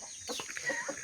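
A rooster and hens on a layer chicken farm cluck and murmur close by in a short, busy burst of fowl sounds with no talking.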